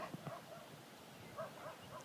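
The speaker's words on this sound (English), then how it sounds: "Where the puppies at?" A puppy gives a few faint, short whimpers and yips, some spaced apart and some close together, in a quiet indoor setting with no talk over them.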